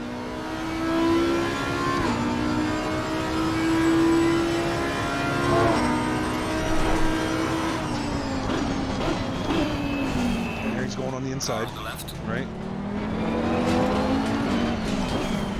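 Race car engines in a sim racing video game drone steadily through a chicane with AI traffic, a constant loud whine shifting pitch as the car brakes and accelerates, with a voice talking over it throughout.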